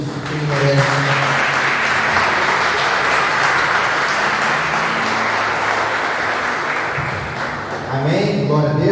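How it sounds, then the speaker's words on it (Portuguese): A church congregation applauds in a sustained, even wash of clapping, with voices and some musical tones faintly mixed underneath. "Aplauda o Senhor por isso, que Ele merece."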